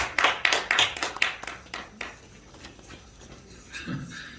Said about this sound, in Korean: 박수 영광 드립니다